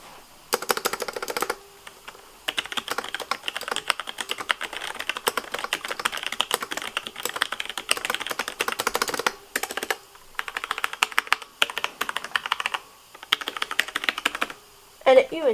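Fast typing on a new clicky mechanical computer keyboard with Roman G tactile switches, dense bursts of sharp key clicks separated by short pauses, close and clear with no talking.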